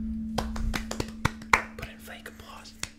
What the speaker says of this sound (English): Put in fake applause.